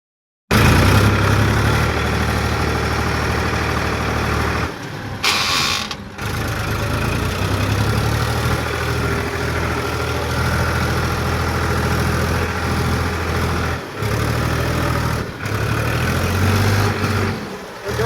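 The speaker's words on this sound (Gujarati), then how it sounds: "જમ્બો કલ્ટિવેટર છે નવનું, એ કેવું ચાલે છે તમને બતાવું" A tractor engine runs steadily and loudly close by, with mechanical clanking and rattling from a towed nine-tine jumbo cultivator, the drone dipping briefly a few times.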